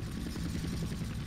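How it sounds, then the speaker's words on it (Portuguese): A helicopter in the video game GTA San Andreas makes a steady, throbbing rotor drone with a rapid low pulse, continuous and fairly loud for the whole short moment, with no talking. "você sobe o helicóptero, dá essa volta, depois segue em frente"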